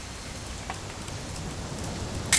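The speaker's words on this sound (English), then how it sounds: "It's gonna rain the whole weekend," Rain falls in the video game What Remains of Edith Finch, a soft, constant hiss of drops with faint scattered ticks, alone and unbroken by voices.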